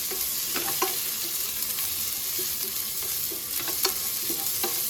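Masala spiced with a pinch of turmeric is stirred in a hot pan for Kongu Nadu style mutton biryani. A continuous close sizzle runs under soft, repeated scraping strokes of the stirring, with no talking.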